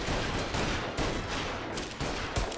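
Gunfire in the video game Mafia: Definitive Edition, dense overlapping shots in rapid bursts, loud and continuous across the moment, with no talking over it.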